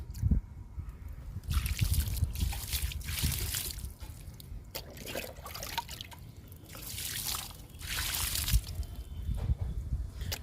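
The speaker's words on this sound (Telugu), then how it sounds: "వాటర్ ఇచ్చేద్దాము." Small garden plants, including lemongrass in freshly loosened soil, are being watered, with trickling and splashing water in uneven bursts across ten seconds, close by and moderately quiet.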